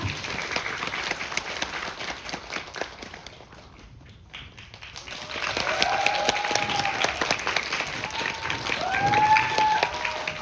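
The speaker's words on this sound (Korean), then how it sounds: "박수 부탁드립니다." An audience in a cinema talk-event hall applauds to welcome guests, a full round of clapping that dips briefly and then swells again, with some faint tones and bustle underneath.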